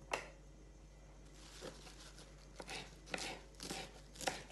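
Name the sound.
chopping mint leaves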